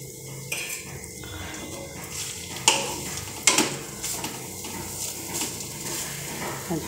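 Grated whole coconut is stirred in ghee in a wok for coconut barfi, with a utensil scraping and clinking against the pan over a soft, steady sizzle and a couple of louder knocks.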